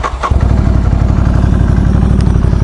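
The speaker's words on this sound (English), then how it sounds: "Would you like to listen to what the Zard sounds like?" A warm motorcycle fitted with a Zard exhaust idling close by, a deep steady rapid throb with a slight blip at the start, loud and alone.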